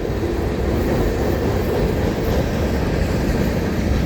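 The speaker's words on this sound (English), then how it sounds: "well, I should say an empty rock train." A long, empty freight rock train rumbles steadily past close by, a continuous low roar with faint clacking of wheels on rails, no voices.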